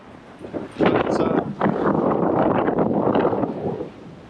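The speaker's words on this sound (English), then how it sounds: "when the wind gets up and you've got the mid-20s across the deck" Brisk wind buffets the microphone aboard a Moody DS48 yacht under sail, a steady broadband roar with gusty swells that stays loud for several seconds.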